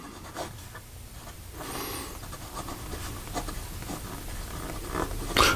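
A Montblanc James Dean fountain pen with a 14k gold medium nib writes on paper, giving soft continuous scratchy strokes with brief louder swishes, close and quiet, with no talking.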